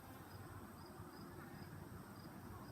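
A soft, steady buzzing hum of many bees flying around beehives, faint and continuous, with no voices.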